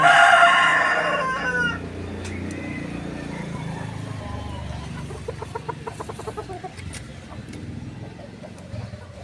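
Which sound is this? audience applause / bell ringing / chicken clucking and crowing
chicken clucking and crowing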